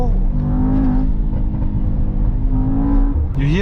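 A Mercedes-AMG GT 63 S E Performance V8 engine pulls hard under boost, its deep, rising drone steady and close, then a quick shift and the pitch climbs again.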